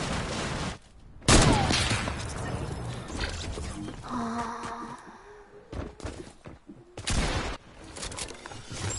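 Bursts of rapid gunfire and mechanical clatter in a multiplayer video game, several loud volleys separated by quieter gaps, with players' voices heard briefly between shots.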